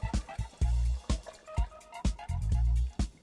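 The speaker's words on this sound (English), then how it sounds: "we're going to add all 2 quarts of this stock to the pot" Beef stock poured into a pot for pepper pot, close splashing and gurgling pours in several bursts with small drips between, no talking.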